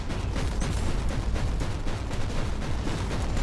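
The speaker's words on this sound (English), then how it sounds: "But I'm shooting super fast." Rapid, continuous gunfire from Warhammer 40,000: Inquisitor - Martyr, a dense barrage of booming shots with no break, loud and close, without speech.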